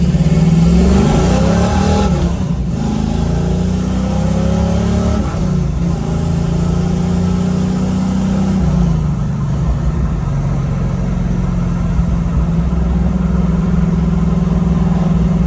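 A 1969 Camaro fitted with a T56 manual transmission and new gears accelerates on a road test, its loud engine rising in pitch through the revs, easing back at a shift, then climbing again, heard from inside the car.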